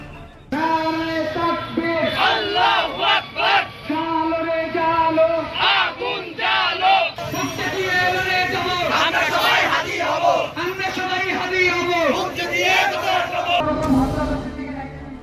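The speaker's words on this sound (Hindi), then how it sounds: "दूतावास के बाहर जमकर हंगामा हो रहा है।" A large protest crowd outside the Indian embassy in Bangladesh shouts and chants in unison, loud and sustained, with raised voices rising and falling in rhythmic bursts throughout.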